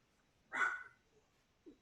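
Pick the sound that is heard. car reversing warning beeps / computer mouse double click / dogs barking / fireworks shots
dogs barking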